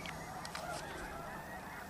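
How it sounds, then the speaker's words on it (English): A big flock of geese honks continuously in open country on Colorado public land, a dense overlapping chorus of calls heard at moderate distance with no talk. "There's a big flock of geese."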